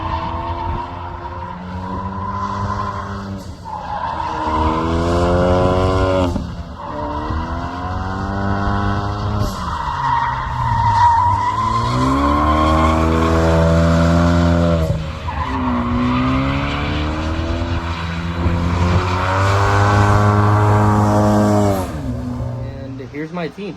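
A Ford Mustang S550 driven hard on track, its tires squealing and skidding in long sustained bursts over a loud, steady engine note, with people talking over it throughout.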